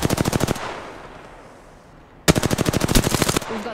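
Rapid automatic gunfire in Apex Legends, loud and close, bursting for half a second, falling quiet, then returning as a longer sustained volley.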